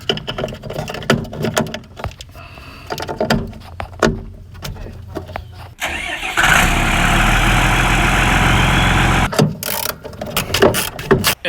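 A vintage 2000s Freightliner truck is started with the key: clicks and shuffling, then the engine cranks and catches, settling into a loud steady diesel idle before further handling noises close by.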